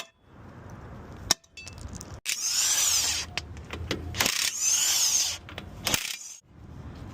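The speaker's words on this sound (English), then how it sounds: "So I'm using the small hammer for" Sharp metallic hammer strikes ring out as a small hammer knocks broken wheel studs from a GMC/Chevy dually rear hub, several distinct clangs separated by bursts of scraping and rattling tool noise up close.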